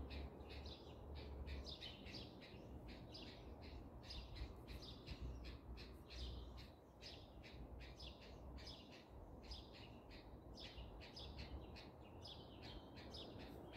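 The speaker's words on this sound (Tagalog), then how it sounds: "Naingay yung ibon doon" Birds squawk and chirp noisily and almost without pause near a bed of yellow roses, their sharp, repeated calls close and steady over a low outdoor hum.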